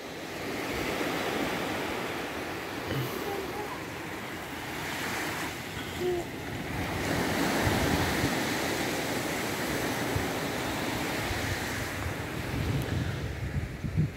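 Ocean waves wash steadily onto the sand at Praia do Sonho beach in Santa Catarina, a continuous broad roar of surf mixed with gusting wind buffeting the microphone, with no voices.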